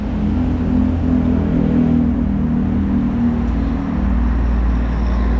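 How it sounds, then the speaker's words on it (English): Traffic streams along busy Thepprasit Road in Pattaya, Thailand, a continuous nearby rumble of car and motorbike engines with vehicles passing and revving, loud and steady with no talk. "this road here is quite busy"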